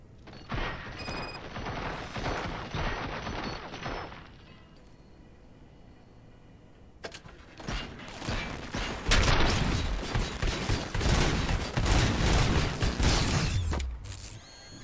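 Gunfire in the video game Robocop: Rogue City, a dense burst of shots and mechanical clatter that swells after a quieter stretch, loud and sustained with game background noise throughout.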